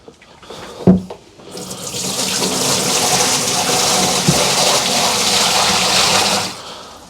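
Dirty water from a Big Green carpet cleaner tank, full of pet hair after pet urine extraction, gushing out in a loud steady pour after a knock, lasting several seconds before tapering off.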